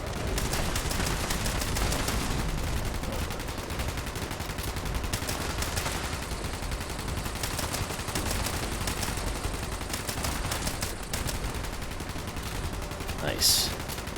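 Dense, continuous automatic gunfire in the video game Fallout 76 as players shoot at cultists, rapid bursts running throughout with someone talking briefly.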